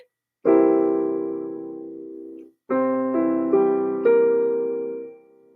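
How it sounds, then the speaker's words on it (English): Several voices sing a sustained dominant seventh chord (C, E, G, B flat), pause, then sing again with the top notes shifting in steps before fading out. "A dominant 7 is C, E, G, B flat."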